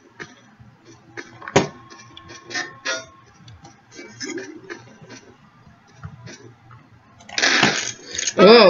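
Garry's Mod Prop Hunt taunt sound effects play in bursts: a sharp clinking hit, scattered ticking blips, then a loud sustained noisy blast and a rising warbling tone near the end, with game chatter and voices mixed in.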